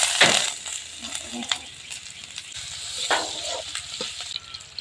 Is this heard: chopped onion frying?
yes